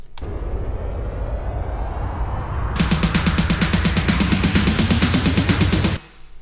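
A roaring synth noise sweep builds for a few seconds in a Melbourne Bounce track, then a bright pulsing rhythmic layer kicks in and runs loudly until a sudden cutoff.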